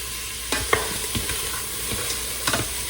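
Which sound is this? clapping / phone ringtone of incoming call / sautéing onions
sautéing onions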